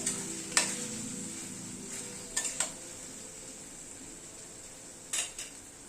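Chicken coated in kasundi mustard sauce and tomato ketchup cooks in a pan under a soft, steady sizzle, with three quick metallic clinks of a spoon against the pan.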